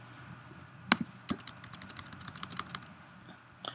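Computer keyboard typing while coding in Xcode, a quick irregular run of light key taps and clicks close to the mic, some strokes sharper than others.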